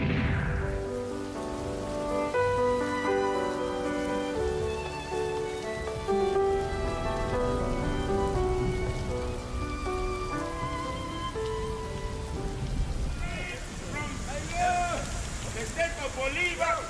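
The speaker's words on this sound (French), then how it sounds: "le ciel s'est ouvert et il pleut partout dans tout le pays" Heavy rain pours steadily across a wide area in Maracay, Venezuela, a dense continuous hiss of drops on surfaces, while music with sustained tones plays loudly over it throughout.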